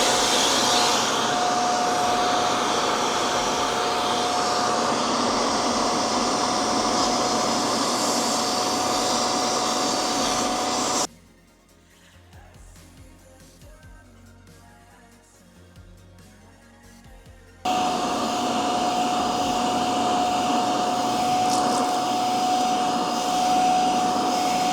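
A Bissell Little Green Max Pet Deep Cleaner whirs loudly and steadily on carpet with a high motor whine, cuts out for several seconds of near quiet, then starts up again at full volume.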